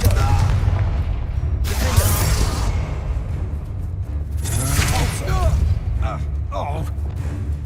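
A Confringo fire spell explodes in Hogwarts Legacy: two loud, booming bursts with a whooshing rush arrive a few seconds apart over steady game ambience and low background voices.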